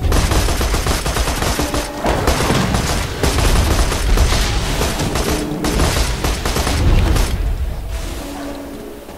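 Dense, sustained gunfire from a Borderlands 2 co-op session, with rapid overlapping shots and bursts rolling continuously at close range, loud throughout with no pauses.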